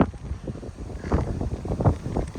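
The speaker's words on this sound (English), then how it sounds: "Oh, it's windy." Gusty wind blowing across an open donkey pasture, buffeting the microphone in uneven low rumbling surges that swell and fade throughout.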